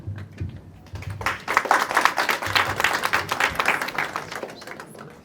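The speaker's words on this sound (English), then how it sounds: "Please give each participant a round of applause as they come up." Audience at a Sikh community declamation contest claps for a participant coming up, a moderate, steady patter of many hands that swells in the middle and tapers, with a faint low voice underneath at the start.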